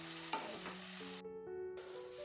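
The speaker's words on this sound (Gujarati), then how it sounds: "ટમેટું પણ લસણ ડુંગળી સાથે નાખી દેશું." Tomato added to garlic and onion in a pan for a Kathiyawadi-style drumstick and potato curry, sizzling and crackling steadily while being stirred, close and fairly soft.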